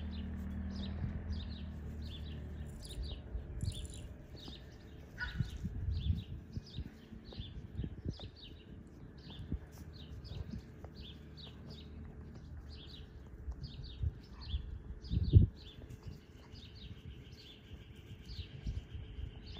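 Small birds chirp repeatedly in the distance, a steady scatter of short high tweets over quiet outdoor ambience with a few soft low thumps.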